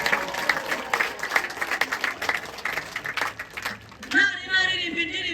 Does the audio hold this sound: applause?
yes